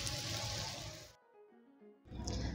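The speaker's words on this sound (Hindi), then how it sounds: "थोड़ा सा पानी शामिल करेंगे।" A little water goes into chicken masala cooking in a hot pan, giving a loud rushing sizzle that drops away briefly and then surges back, close and without talk.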